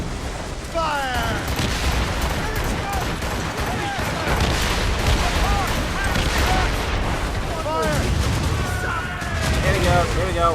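Naval cannons fire in a battle in the video game Assassin's Creed Rogue, with repeated booming volleys and crackling blasts over dense battle noise, while shouting voices carry over the continuous din.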